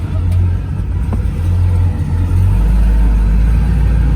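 A car accelerates as the clutch hooks up, its engine rumble swelling into a deep, loud, sustained pull up close after a slightly uneven start.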